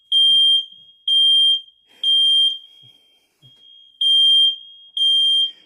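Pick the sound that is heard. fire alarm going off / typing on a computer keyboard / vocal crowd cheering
fire alarm going off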